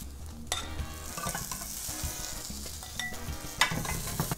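A dorado fillet sizzles on a grill with a steady crackling fry, close and moderately loud, broken by a few light clicks and scrapes of utensils and no speech.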